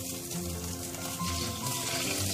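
Running tap water pours steadily over oily hands being rinsed in a kitchen while cooking, a continuous close splashing stream with no talking.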